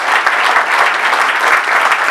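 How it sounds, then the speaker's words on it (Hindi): Audience claps loudly and continuously at a book launch honouring a musician-author, a thick, sustained ovation with individual claps poking through at an even level. "जोरदार तालियां आलोक जी के लिए, सत्यम उपाध्याय के लिए, अमन बाटला जी के लिए"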